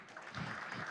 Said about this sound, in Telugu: ఇప్పుడు చప్పట్లు కొట్టచ్చండి